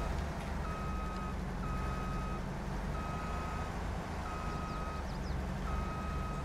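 A truck's reversing alarm beeps steadily while backing in Farming Simulator 22, about one evenly spaced tone per second over a constant low engine rumble.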